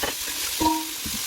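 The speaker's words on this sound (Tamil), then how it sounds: "நாங்கள் கட் பண்ணி வச்சு பெல் பெப்பரையும் கொச்சிக்காயும் இவரத்திலே போட்டுக்கொள்வோம்." Chopped bell pepper and chilli going into a hot pan for a chicken pasta, with brief stirring scrapes and a soft sizzle over a short stretch; no voices.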